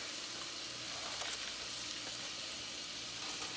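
Steaks seasoned and marinated in Worcestershire sauce sear in a skillet, a quiet, continuous sizzle with a few faint clinks, without speech.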